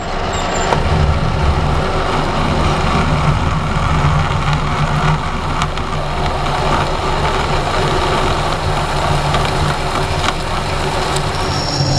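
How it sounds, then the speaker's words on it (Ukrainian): A hole being drilled out in a threaded bushing on a machine: a loud, steady, continuous mechanical roar and grind with a low hum, unbroken for the whole stretch, with no talking. "Щоб не розтачувати, розсверлюємо спочатку наш отвір."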